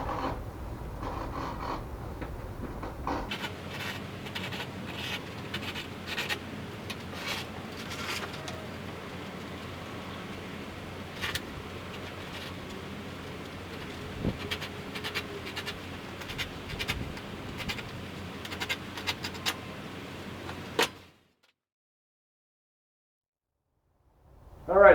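A blade slicing through canvas along a wall during trimming for panel glue-up, giving close, steady scratchy cutting strokes for about twenty seconds before falling silent.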